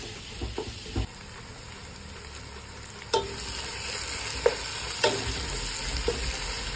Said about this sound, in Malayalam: പക്ഷേ സവാള ഒന്ന് വാടി ഒരു ചെറിയ ചുവപ്പ് കളർ ആകുന്നിടം വരെ നമ്മൾ ഇതിനെ നല്ലപോലെ